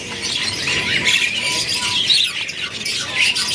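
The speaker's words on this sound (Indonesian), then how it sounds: "Ini dia penampakan burung manyarnya ya." Manyar weaver birds chatter at a bird market in Pasar Pramuka, a dense, continuous mix of high chirps and squawks from several birds, fairly close and loud.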